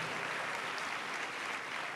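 A church congregation at worship in Rajahmundry claps hands together, a dense continuous patter of applause at moderate loudness throughout.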